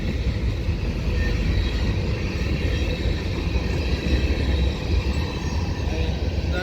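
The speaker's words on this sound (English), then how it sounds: "Oh, this is the garbage train." A garbage train passes on railroad tracks with a continuous heavy low rumble and rolling wheel noise, steady and fairly close for several seconds.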